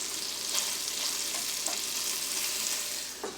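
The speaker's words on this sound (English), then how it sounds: "keep frying your meatballs." Meatballs fry in a pan with a constant crackling sizzle, punctuated by a few brief pops and scrapes of stirring, close up with no talking.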